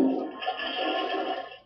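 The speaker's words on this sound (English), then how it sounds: "Flush sound, click sound." A toilet flush sound effect triggered in a game level: a steady rushing wash of water lasting under two seconds, fairly quiet and even, then trailing off at the end with no voices.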